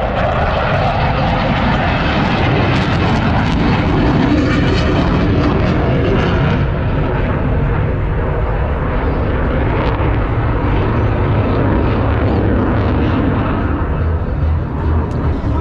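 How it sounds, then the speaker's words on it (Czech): A Eurofighter Typhoon jet takes off from runway 22 at Mošnov airport, a loud continuous engine roar that stays strong throughout with a slowly shifting tone. "právě teď vzlétl z dráhy 2-2 mošnovského letiště. Eurofighter Typhoon"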